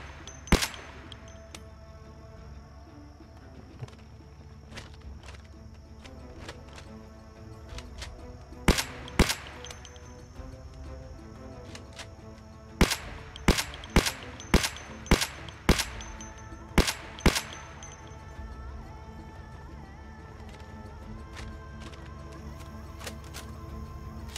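Sharp, loud gunshots ring out in Project Zomboid, one at a time with irregular gaps, over a steady low background hum.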